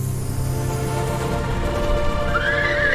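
A horse gives a single high whinny late in the clip, over a steady, dense background hum with no voices.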